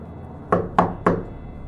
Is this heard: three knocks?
yes